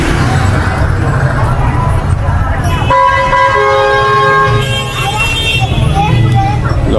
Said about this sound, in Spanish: mucho tráfico por aquí.